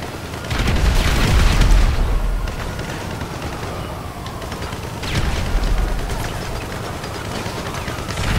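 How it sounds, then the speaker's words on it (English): Heavy booming blasts and rumbling explosions in GTA V Online roll through in two big waves, with crackling debris-like noise between them, loud and dense. "Let's make the explosions happen."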